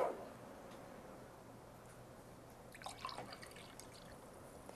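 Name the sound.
water poured back into a container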